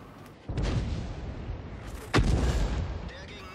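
Artillery fire in the World of Tanks video game: a heavy boom followed by a sharp second blast as the shell lands, both close and loud with rumbling tails.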